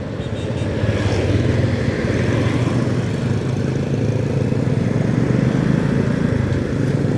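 A Suzuki Shogun 125 motorcycle rides steadily on a road in Maros, its engine droning loud and close with a constant low rumble and wind noise that carries through the whole stretch.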